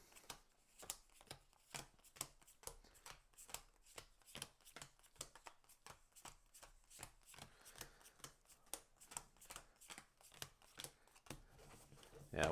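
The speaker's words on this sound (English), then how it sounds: "have a shuffling machine around here somewhere" A small, cheap automatic card shuffling machine riffles a deck during a solo Marvel Legendary card game, giving a long run of rapid, quiet clicking flutters with a louder mechanical burst at the very end.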